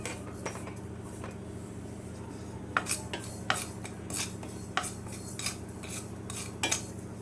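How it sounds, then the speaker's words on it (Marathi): Sesame seeds and cumin dry-roasting in a kadhai, sharp metallic scrapes and taps of a spoon against the pan at irregular intervals over a low steady background. "एका कढईत तीळ जिरे भाजायला घालायचे"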